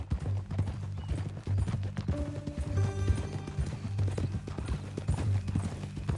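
Horse hooves clip-clopping in the video game Red Dead Redemption 2, a steady rhythmic trot of clear hoof beats throughout, with brief background game sounds.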